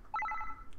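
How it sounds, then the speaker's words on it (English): A cell phone rings in the video game Psycho-Pass Mandatory Happiness, a short electronic ring tone of a few rapid melodic tones, clear and close, with no voices over it. "Suddenly, it seemed like Shiori's cell phone started ringing."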